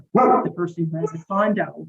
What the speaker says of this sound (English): I apologize for the dog involved in the background here